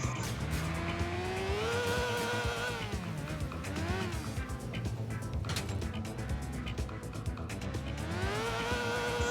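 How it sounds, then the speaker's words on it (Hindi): Motorbike tires skidding and slipping in GTA IV, loud and continuous over a busy engine and game soundscape, with screeching tones rising and falling through the whole stretch. "यहाँ पर मेरी बाइक जो है वो बहुत ही स्लिप हो रही है।"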